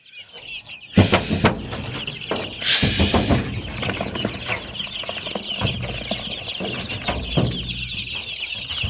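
American Silkie chickens and chicks clucking close by, a busy run of repeated clucks and short calls that rises loudly after a quiet start and continues without speech.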